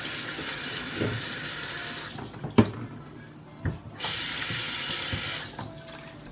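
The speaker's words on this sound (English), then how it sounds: "we're just going to rinse off our hands really quickly because we're going to stir this up" Water runs steadily from a kitchen sink tap as hands are rinsed beneath it, with a soft splashing hiss, a couple of sharp clinks and a short break in the flow, heard close up.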